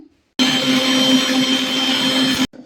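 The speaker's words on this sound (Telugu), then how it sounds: "ఇది కూడా పౌడర్ చేసుకుందామండి, మిక్సీ పట్టుకుందాము" A kitchen mixer grinder powders dried neem leaves, starting abruptly into a loud, steady whirring whine close by and cutting off after about two seconds.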